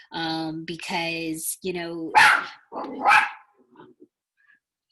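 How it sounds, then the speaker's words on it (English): A pet dog barks loudly several times in a room, with sharp bursts between and after stretches of a voice talking over a lecture about gender and hormones. "that is my dog."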